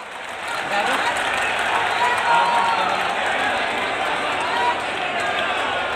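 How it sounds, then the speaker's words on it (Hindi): Crowd clapping at a rally for the Shri Kalki Dham ceremony in Sambhal, a dense steady wash of applause lasting throughout at moderate, even loudness. "तालियां बहुत कमजोर है, संभल इतना कमजोर तो नहीं है।"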